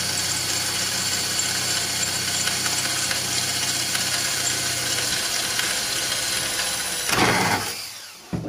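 A drill with a cobalt bit bores through 2 mm steel sheet, a steady loud whine running for about seven seconds before the motor winds down and stops.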